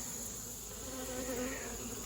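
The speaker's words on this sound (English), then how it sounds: "There's a lot of bees" Honey bees buzz densely around an open hive during a split inspection, a steady continuous drone close by with no talk over it.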